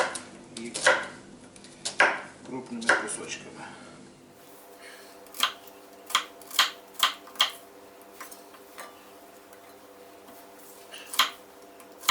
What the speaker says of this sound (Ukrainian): беремо 4 цибулини, чистимо їх, нарізаємо.